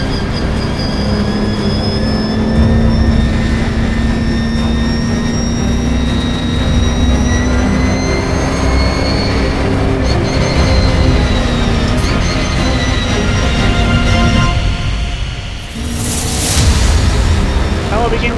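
Britcar endurance race cars pull away at the start at Silverstone, engines droning and climbing steadily in pitch as a dense, loud pack, with a commentator talking over the noise.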